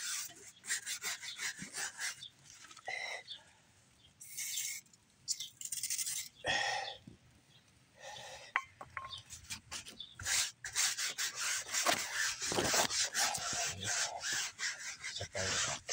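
Tire wax is spread and rubbed by hand onto a car tire, producing close, scratchy rubbing strokes in bursts with short pauses between them, growing denser toward the end.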